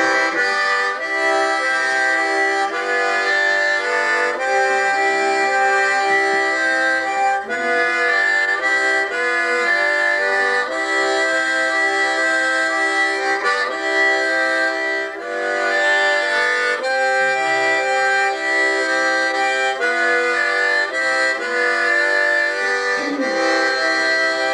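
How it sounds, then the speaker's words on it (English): A foot-pumped reed organ, a harmonium, plays a steady tune in full sustained chords. It is loud and continuous, with no talking over it. "Harmonium, the thing you had to pump with your feet and play"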